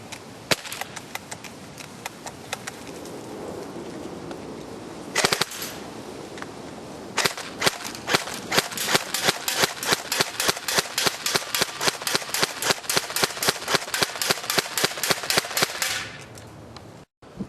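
A Double Eagle Krinkov airsoft gun fired on semi-auto, a long run of sharp, close snapping shots at a fairly quick, even pace, with a few scattered shots and a brief burst early on before steady firing.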